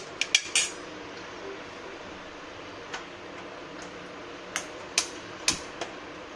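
A metal kadhai set down on a kitchen stove and a bowl of ghee added. A quick cluster of sharp clinks opens, then scattered light metallic taps and knocks over a quiet background.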